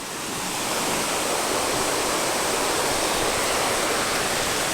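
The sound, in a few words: creek water flowing over rocks, Finch Hatton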